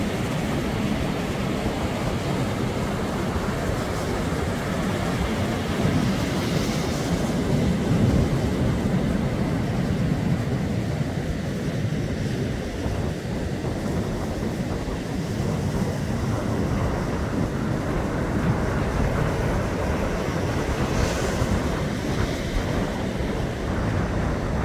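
Rough sea surf breaks continuously under strong wind, a loud dense roar of crashing waves and gusts buffeting the microphone, with no voices.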